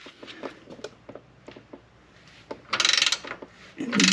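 An 18mm socket on a ratchet breaks loose a suspension bolt on a Jeep Wrangler JLU during a 1.5-inch lift install: soft clicks and metal handling, then a loud grinding, rasping burst and a final clunk.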